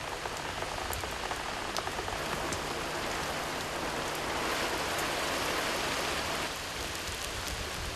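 Dense, steady rain pouring down on and leaking into a house, an unbroken hiss of drops on surfaces with occasional closer drips, loud and continuous with no voices.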